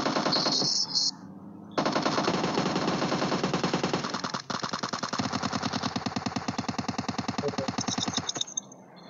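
Rapid automatic gunfire in the PUBG Mobile video game, long loud bursts of tightly spaced shots broken by short pauses, with an engine-like drone underneath.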